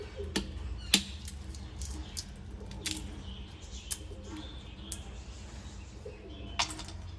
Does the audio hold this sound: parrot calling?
yes